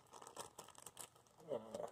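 Packaging for cheap gold Skullcandy earbuds crinkles and rustles in short bursts as it is handled and opened, close and quiet, with a louder rustle toward the end.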